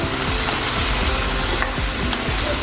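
Ampalaya with chicken and shrimp simmers in coconut milk, stirred with a steady, loud bubbling sizzle and repeated rhythmic scraping strokes across the pan.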